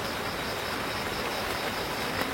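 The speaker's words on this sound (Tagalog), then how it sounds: "Ulan jud oh." Steady rain falls outdoors in a broad, even hiss with a soft patter, constant and unbroken from start to finish with no voices.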